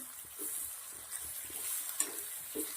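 Brinjal curry with red chilli, turmeric, coriander-cumin powder and salt is stirred in a pan, soft scraping strokes repeating over a faint sizzle, quiet and close.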